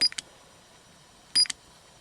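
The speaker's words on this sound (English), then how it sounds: "It will beep at you and block the shift." Two short bursts of high electronic beeping from a car's electronic shift box blocking a shift, separated by a second of near silence, sharp and close.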